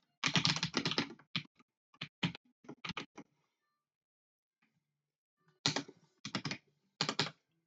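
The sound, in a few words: typing code on a computer keyboard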